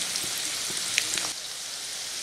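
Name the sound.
chickpea pakoda frying in oil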